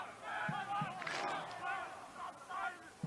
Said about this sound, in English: Now the students in the crowd, they find their voice.